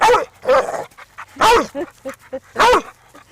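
A big dog barks in loud, separate woofs, about four over a few seconds, with softer whines and yips between them.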